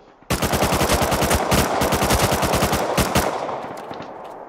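An AK rifle in Rust Console Edition fires a long, loud, rapid automatic burst of evenly spaced shots, close and dominant, then stops and leaves a brief fading tail.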